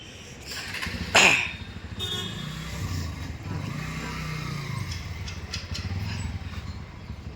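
A Bajaj Pulsar motorcycle engine hums steadily at moderate volume, with a brief louder burst early on, as if revving while riding along.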